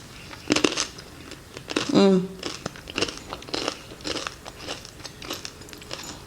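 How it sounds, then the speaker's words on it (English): Sharp, crisp crunching as a fried chakli snack is bitten and chewed close up, a cluster of crackly bites followed by steady chewing. "Can you hear the crunch?"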